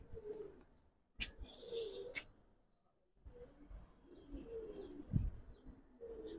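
Giribaz pigeons coo in a loft, several soft, throaty rolling coos repeating at close range amid faint rustling and short pauses.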